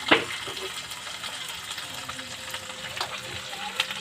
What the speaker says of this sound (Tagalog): Takutin lang ito sa mantika.